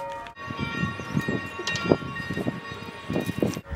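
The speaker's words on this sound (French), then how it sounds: "Excusez-moi pour les cloches, hein, mais c'est l'heure." Church bells ring in a German town at the hour, a faint, steady metallic ringing with sustained tones running throughout beneath soft room noise, no talk over it.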